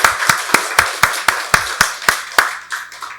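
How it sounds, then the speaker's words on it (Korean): A church congregation at a Sunday worship service claps in unison, about ten sharp, evenly timed claps that ring close and then soften and scatter toward the end. "박수로 하나님께 영광 돌리겠습니다."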